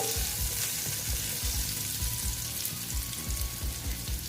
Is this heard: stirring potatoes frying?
yes